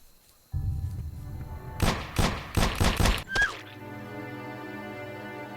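A burst of about five loud, close gunshots in a horror video game, fired in quick succession after a low droning ambience, followed by a short metallic ring and a lingering hum.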